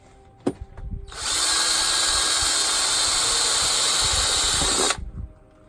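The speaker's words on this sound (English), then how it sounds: "if you're drilling a pilot hole for the supplied sheet metal screws, you use a 1/8 inch diameter drill bit" A power drill with a 1/8 inch bit bores a pilot hole for sheet metal screws on a window well cover, a loud steady high whine for about four seconds, with handling knocks and clicks before and after.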